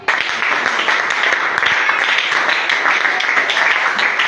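A church congregation breaks into loud, sustained clapping and applause acclaiming Jesus, a dense close wash of hands lasting throughout, with voices mixed in.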